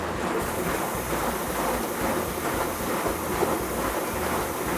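A Samsung washing machine agitates during its wash cycle, making a steady loud churning and sloshing of water with a low rhythmic drum motion, continuous and without speech.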